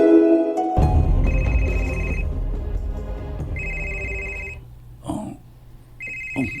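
A cellphone rings with a repeating electronic tone in three bursts, loud and close over a drama scene's music and background noise.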